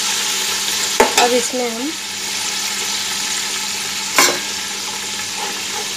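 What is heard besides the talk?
chicken frying in oil with onions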